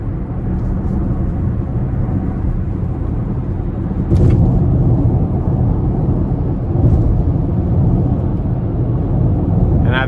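Cabin drone of a 2022 Chevrolet Equinox RS turbocharged engine while driving, a loud continuous low rumble of engine and road noise with a couple of brief swells as the car moves along.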